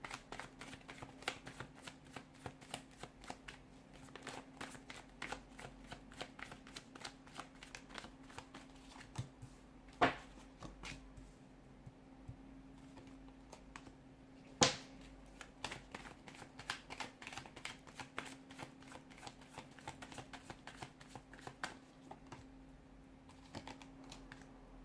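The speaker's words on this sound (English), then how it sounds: "we'll give the cards a shuffle" Tarot cards being shuffled close up, a quiet run of soft rapid riffling and tapping, with a couple of louder snaps, in an otherwise hushed room.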